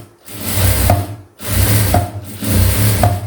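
A sewing machine stitches a quarter-inch seam in blouse cloth in three short bursts, each a steady whirring run separated by brief pauses, loud and close.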